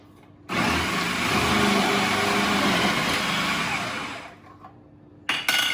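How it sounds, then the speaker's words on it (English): A food processor grates carrots and ginger with a steady, loud whirring grind for about four seconds, then winds down and stops, followed by a brief clatter. "So I'm going to use a food processor for grating the carrots and the ginger."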